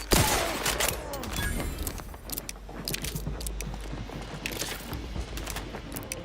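Shots from a video game in Outer Worlds 2 come in rapid bursts and scattered single cracks, close and sharp, over a busy background. Brief talk comes in between.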